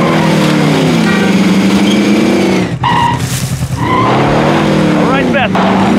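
A vehicle driven in Call of Duty Warzone revs hard with a loud, wavering engine whine and tire skids, briefly dipping in pitch as gears shift before roaring back up close by.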